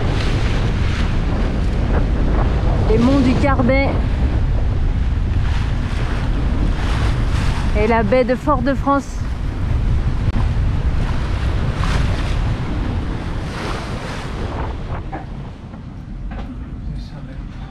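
Strong wind roars steadily with washing waves aboard a sailboat off Martinique's leeward coast, passing the bay of Fort-de-France. Someone talks over the constant loud rush, which eases slightly toward the end.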